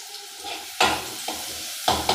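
Onions frying in a pan for macaroni, a steady close sizzle broken by a few sharp stirring scrapes and clatters of a utensil against the pan, with no talk.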